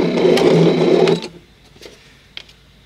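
A home cutting machine cuts out a design for a hand-drawn rug. A close motor whir runs steadily for about a second, then stops, leaving a few faint clicks.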